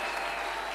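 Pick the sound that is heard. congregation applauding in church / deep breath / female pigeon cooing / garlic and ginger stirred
congregation applauding in church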